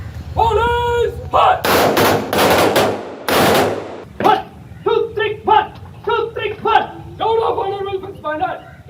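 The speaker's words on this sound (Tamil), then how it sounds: "தொடர்ந்து முப்பது துப்பாக்கி குண்டுகள் முழங்க அரசு மரியாதையுடன்" A police funeral's thirty-round gun salute sounds as a cluster of loud, sharp cracks, then breaks into quick choppy bursts with a voice speaking over much of it, while other voices can be heard in the background.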